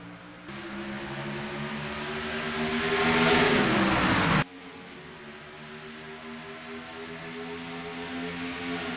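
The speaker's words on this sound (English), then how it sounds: "the number 42 of Anthony Nicole led us to the green flag as 3 wide are ready for the lead" Cup Series race cars at New Hampshire accelerate at the green flag start, a loud pack of engines building and rising in pitch, then cutting abruptly halfway through to a quieter, steady engine drone.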